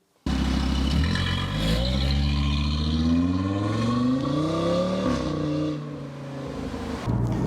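Audi RS3 out on a test drive, its engine rising and falling through gears with a loud, close, continuous drone and shifting pitch, easing off near the end before picking up again.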